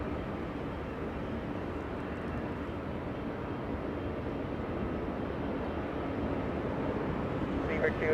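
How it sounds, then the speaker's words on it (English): A Hawaiian Airlines Airbus A330 landing on runway 24 right at LAX after a flight from Honolulu: a continuous low rumbling roar with wind-like hiss, steady and fairly loud, building slightly near the end. "Hawaiian 10 flying in from Honolulu, 5 hours of flight time. That's an A330."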